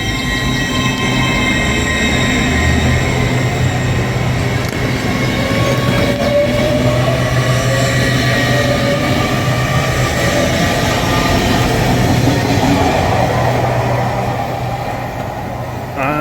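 An LNER train pulling away from a station platform in northern England, a loud continuous rumble with a rising engine tone and faint wheel squeal, steady for sixteen seconds with no talk.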